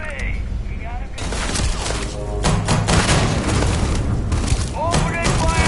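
Gunfire and explosions in Starfield: booming shots and cracks blend into a dense, loud barrage that runs throughout, with shouted voices over it.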